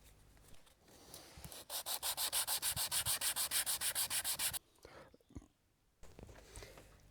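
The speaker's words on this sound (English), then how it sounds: "Just a few burn marks, but sanding those out by hand, tedious" Hand sanding of burn marks on a homemade wooden cutting board: a rapid, regular run of rough scrubbing strokes, close and fairly loud, between short quieter stretches of handling noise.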